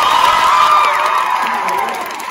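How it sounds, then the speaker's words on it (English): A crowd of schoolchildren at a kindness rally cheers and whoops loudly, a dense sustained roar of young voices that slowly fades, with little distinct clapping. "The audience claps their hands and cheers really, really loud."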